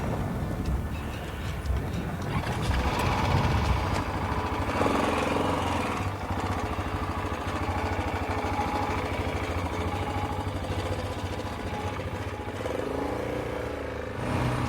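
A KTM dirt bike engine runs steadily out on a trail, a continuous mid-level motor drone with slight rises in revs throughout, no clear speech over it.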